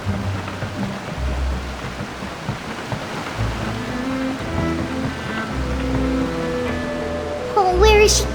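Ocean waves rush steadily while surfing in Genshin Impact, a continuous roar of surf under game music, with a short voice near the end.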